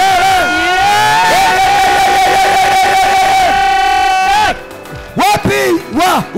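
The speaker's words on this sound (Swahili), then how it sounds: "Mpe Yesu makofi na vigelegele." A church congregation at an all-night prayer vigil in Iyunga cheers in a loud, sustained wall of voices with high ululation-like trills over a steady crowd roar, then breaks into shorter bursts of shouting and cheering.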